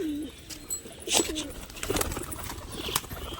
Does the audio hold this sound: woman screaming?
no